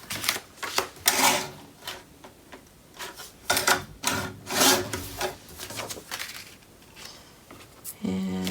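Paper being trimmed for a Graphic 45 mini album page, with a series of uneven rasping, rubbing strokes and scrapes that swell and fade close by, then a soft thump near the end.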